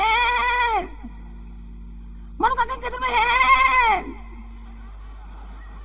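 A voice imitates a goat bleating, giving two loud, wavering, drawn-out calls shaped like spoken words, with a short pause between them, close up.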